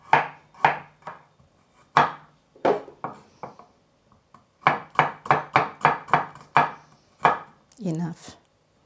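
Garlic being cut with a knife on a board for double-fried pork slices: crisp, close chops, a few spaced strokes, then a quick run of about eight.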